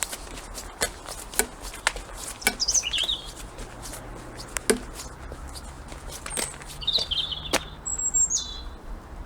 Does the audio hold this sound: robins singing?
yes